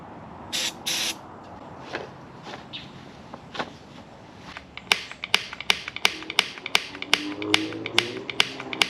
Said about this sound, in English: I don't want to put my face down there and then really click the igniter